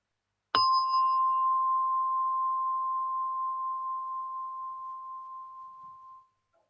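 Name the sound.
gong struck to begin meditation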